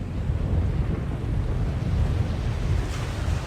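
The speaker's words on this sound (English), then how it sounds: "Storm front. West. Heading our way." Storm wind in the video game The Longest Journey makes a steady, low rushing roar throughout, like gusts over open water, with no distinct thunder crack.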